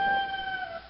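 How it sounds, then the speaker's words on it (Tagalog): A rooster crows once, a short, fairly clear call with steady tonal bands, heard alone without speech. "mayroong manok na tumilaok."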